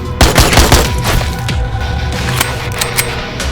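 A gun turret in Slaycation Paradise firing in dense, continuous bursts amid booms and impacts, loud and chaotic throughout.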